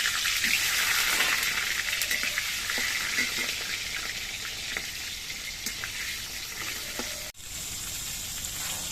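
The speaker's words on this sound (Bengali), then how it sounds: "কড়াইয়ের তেলটা গরম হয়ে গেছে এবার পটলগুলো ভেজে নিচ্ছি" Pieces of pointed gourd (potol) frying in hot oil in a wok, a loud steady hiss and crackle that runs nearly unbroken, briefly cut off near the end before resuming, no voices.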